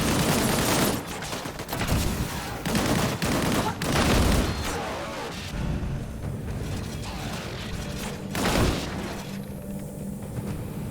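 Gunfire from the PS4 video game Disintegration crackles in loud, repeated bursts and booms, with sparser shots and quieter stretches later on.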